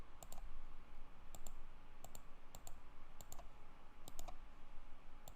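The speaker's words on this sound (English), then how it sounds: "Right click," A computer mouse gives crisp, close clicks, several quick paired clicks spaced irregularly over a low steady room hum, with no voices.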